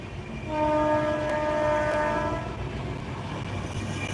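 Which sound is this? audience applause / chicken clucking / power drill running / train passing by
train passing by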